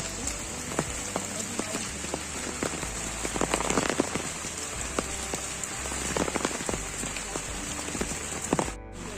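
Steady rain falls outdoors on open countryside, a dense continuous hiss dotted with sharper drip impacts that come and go throughout, close and fairly loud, with no talking.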